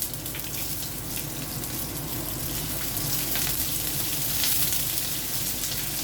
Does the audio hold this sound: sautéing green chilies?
yes